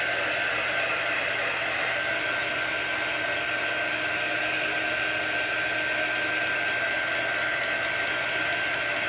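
A hair dryer blows steadily to dry chalk paint, a constant loud whirring hum that runs unbroken throughout, close by with no talking.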